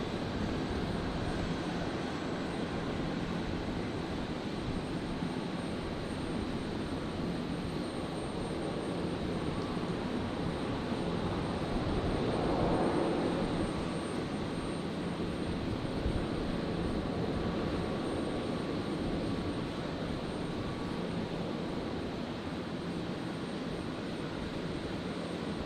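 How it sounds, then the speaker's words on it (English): A Jetstar Airbus A320 arriving from Canberra at Brisbane Airport at night gives a steady, distant jet roar that holds even throughout, swelling faintly near the middle with no voices. "Jetstar 657. The 320 arriving from Canberra."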